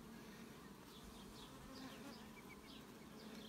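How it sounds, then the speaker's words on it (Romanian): Honey bees agitated at a hive of sunflower honey combs buzz steadily and fairly near, a continuous droning hum with brief higher whines as individual bees fly past. "A început albine din capac să se agite."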